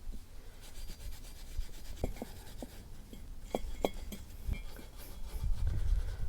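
Abrasive rubs against the surface of an exhaust manifold on a Vauxhall Cavalier X20XEV, a soft, gritty scraping with occasional faint clinks, quiet and close, with no talking.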